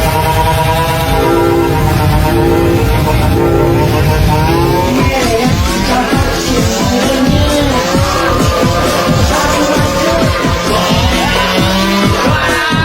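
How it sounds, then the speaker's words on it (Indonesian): A lawn mower engine runs loudly nearby, its pitch wavering and revving, with rough bursts of noise joining in over the second half. "Ada mesin rumput."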